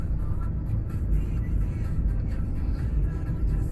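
A Fiat Doblo and a Peugeot 107 race up a hill, one car's engine droning steadily under strain, a continuous low rumble that stays loud and close throughout.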